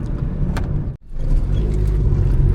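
A Suzuki Alto K10 engine on a car driving Shimla's twisty hill roads revs steadily and close, with a brief sharp dip in the middle as the revs are matched, then the drone resumes.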